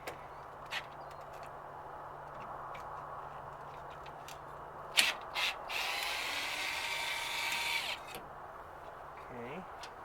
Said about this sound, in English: So now we will attempt to take the top two screws out of the trim ring.